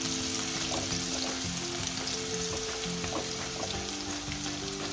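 Half a chopped onion frying in oil until brown for potato puri bhaji: a dense, unbroken sizzling hiss, close and steady, with a low droning hum underneath.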